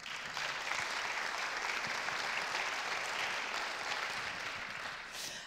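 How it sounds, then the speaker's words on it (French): An audience at an innovation awards ceremony applauds steadily for a presenter, a dense, even wash of clapping held at constant loudness that thins slightly at the very end. "On peut aussi applaudir Bernard de Verneuil."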